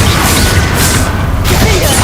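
A Confringo blasting spell bursts in a Harry Potter game, a loud, dense explosive roar with whooshing surges that fill the whole moment.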